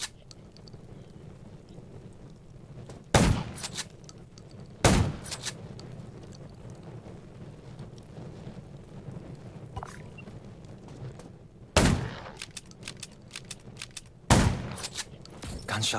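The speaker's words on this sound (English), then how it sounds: "Gunshots will attract more zombies." Gunshots ring out in the zombie survival game Undawn, four sharp loud single cracks spaced a few seconds apart over a low rumbling engine-like background.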